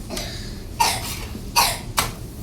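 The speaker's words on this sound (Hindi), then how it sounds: "बेटू को खांसी कितनी आ रही है" A young child coughing indoors: three short, dry coughs spaced apart, fairly close and moderately loud over faint room noise.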